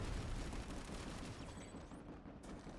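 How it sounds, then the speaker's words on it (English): Gunfire and explosions from Planetside 2 on PS5 during a bio lab base fight, a dense, rumbling wash of shots and blasts heard faintly and at a distance, with no talk. "That's a grenade. Grenade!"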